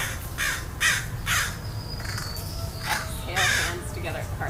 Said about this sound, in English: The crows are really fighting right now.